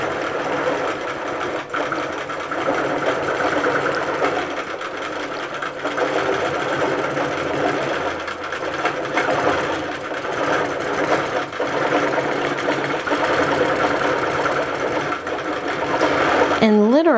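A sewing machine running steadily, stitching the outline of a flame shape, a loud continuous motor whir with rapid needle chatter throughout and a brief shift in pitch at the very end.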